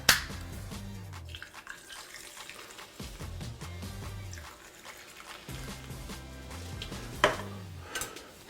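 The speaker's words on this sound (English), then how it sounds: "So, add some ice. And then top it off with a little bit of soda." Soda topping off ice in a mason jar: a faint, fizzy pour with light clinks and crackles of ice, heard close and alone, with a couple of sharper ticks.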